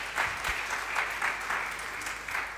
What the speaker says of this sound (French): Est-ce que quelqu'un peut acclamer le Seigneur ton Dieu?